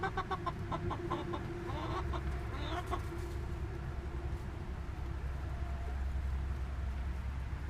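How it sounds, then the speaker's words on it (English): Backyard chickens cluck and murmur softly just after feeding, with several short clucks early on and quieter fowl chatter continuing under low ambient noise. "So now that we've fed the chickens"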